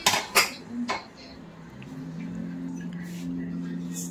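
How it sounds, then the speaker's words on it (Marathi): Metal clanks and clatter as a pressure cooker is opened in a home kitchen while cooking chole, a few sharp knocks up front, then a low steady hum. "कुकर खोलूया।"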